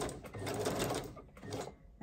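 A sewing machine running a zigzag stitch on a mixed-media embellishment piece, set to smaller stitches: a steady close mechanical whirr that dips briefly near the end and then resumes.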